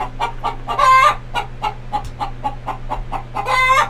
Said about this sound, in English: You gotta love chickens.